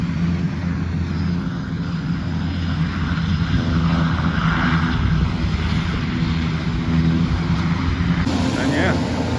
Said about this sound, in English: And yeah, there's the plane. Real close. Going bye-bye.